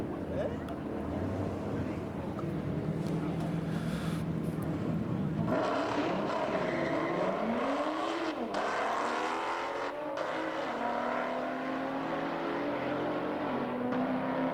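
Nissan GT-R and Dodge Super Bee drag racing, engines rising loudly as they accelerate down the strip with a sweeping pitch climb, while people talk over the roar throughout.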